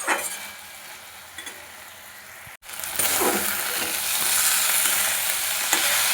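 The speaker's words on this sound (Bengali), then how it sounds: "ভালোভাবে একটু মিশিয়ে নেবো চিনিটা" A spinach curry cooked with onion and garlic sizzles in a pan as sugar is stirred in; a spoon scrapes and taps, the sound cuts out briefly, then the frying returns louder and steady.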